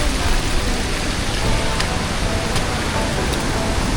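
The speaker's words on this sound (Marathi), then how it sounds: "पण पाऊस आला या ठिकाणी." Steady rain pours down on a waterfall trek trail, a dense, even hiss of drops filling the whole scene without pause.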